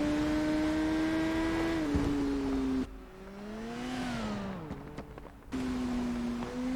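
Peter Hickman's Kawasaki ZX-10R superbike on the Isle of Man TT course gives a high, steady engine whine that dips mid-way, climbs again as it pulls into top gear, then settles back to a strong, near, sustained note.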